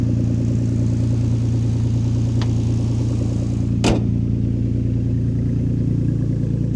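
A Ford Flex engine runs steadily just after starting, a constant low idle hum with a brief sharp mechanical click near the middle; no one speaks.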